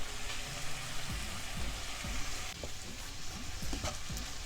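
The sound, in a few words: stir-frying vegetables for instant noodles in a pan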